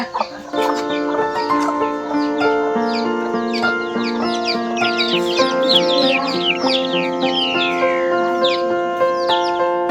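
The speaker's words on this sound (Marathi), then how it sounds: "या आमच्या गावच्या कोंबड्या" Village hens and a rooster at a rural home cluck and call steadily and fairly close, overlapping bursts of squawks filling the whole stretch with no talk.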